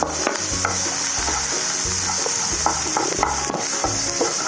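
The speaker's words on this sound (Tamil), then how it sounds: "இந்த வேக வச்ச பட்டாணியை அதோட மிக்ஸ் பண்ணி, பட்டாணியோட இந்த கிரேட்டட் கொஞ்சம் பன்னீரையும் அதோட மிக்ஸ் பண்ணி" Boiled peas and grated paneer are stirred together in a pan, with repeated close scraping and knocking of a spoon against metal over a soft low sizzle, steady and moderately loud, with no speech.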